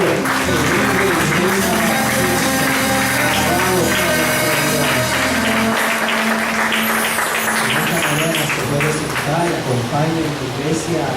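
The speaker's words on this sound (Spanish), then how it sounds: "Regálele un aplauso a Cristo." Church congregation clapping during a Sunday service, loud and continuous, blended with music or voices underneath.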